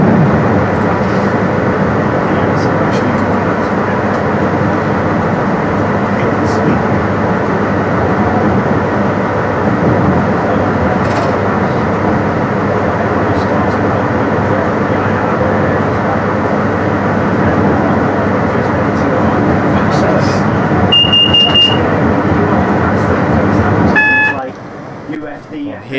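A train running on the Manton Line between Kettering and Leicester, heard from the driver's cab: a steady, loud rumble of engine and wheels throughout, with a brief high warning tone near the end.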